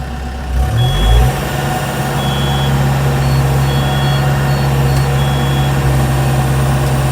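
A Mecalac 8MCR excavator with an Engcon tilt rotator runs at a steady loud idle as the tilt rotator is dropped off, a low engine drone with a brief shift near the start and faint beeps above it.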